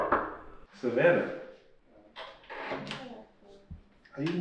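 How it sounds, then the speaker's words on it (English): A child knocks on a wooden door with a few hollow, irregular raps, mixed in with adult speech that runs through most of the moment. "are you knocking on the door?"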